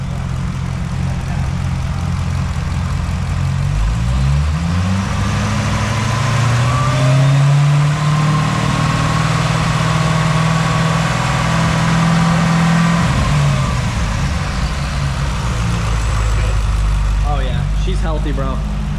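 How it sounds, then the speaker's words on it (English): A Chevrolet Corvette C6 ZR1 engine revs up from a steady idle, its deep rumble climbing in pitch and holding high RPM before dropping back, loud and close, with people talking over it. "we'll rev it a little bit, get the RPMs up"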